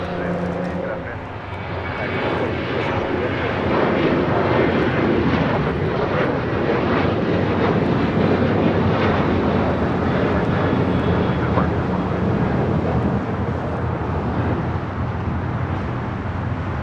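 An airliner departing LAX roars in a loud, sustained jet rumble that swells and holds across the whole stretch, with voices faintly mixed in.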